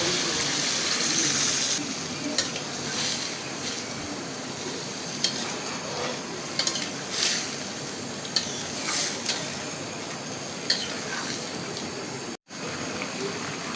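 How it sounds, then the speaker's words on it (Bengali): Water is poured into a cooking pot, making a continuous loud splashing rush that runs for over ten seconds with small clinks and bumps along the way, close by and with no one speaking. "এখন পানি দিয়ে দেব"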